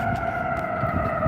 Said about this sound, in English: Oh, I missed the sirens there.